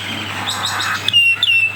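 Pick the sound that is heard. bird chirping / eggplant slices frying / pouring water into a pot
bird chirping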